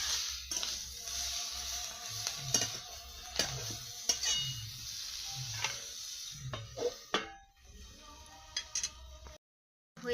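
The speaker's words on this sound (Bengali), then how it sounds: "আর একটু নাড়াচাড়া করে ঢাকা দিয়ে দিই" Greens being stirred in a frying pan over the stove, soft sizzling under repeated spatula scrapes and taps at a steady rhythm, ending with a clatter as a lid covers the pan.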